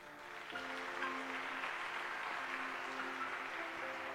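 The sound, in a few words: congregation applauding Jesus in church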